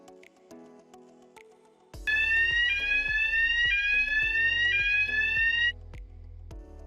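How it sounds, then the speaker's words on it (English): An M-Pulse2pro metal detector raises a false alarm on a metal-free product, sounding a loud, steady electronic alarm tone for about four seconds over quieter machine ticking, with no speech. "It can still happen that a metal-free product generates a false alarm after teach-in."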